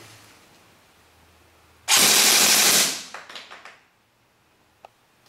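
VFC HK416 airsoft electric gun firing one full-auto burst: a loud, dense mechanical buzz of about a second, trailing off into a few fading clicks and a single small tap, in an otherwise quiet room.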